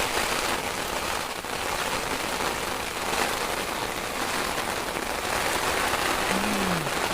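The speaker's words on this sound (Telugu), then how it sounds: "వర్షం మాత్రం 2 గంటల సేపు కొట్టింది" Rain falls steadily on surfaces, a dense even patter that holds for several seconds, with no talking.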